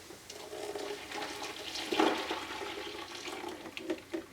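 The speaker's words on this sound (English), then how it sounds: "And then we pour it into the milk" Blended Brazil nut milk is poured into a mesh milk bag, a soft, steady liquid gush with a brief louder splash midway, moderately close and without talk.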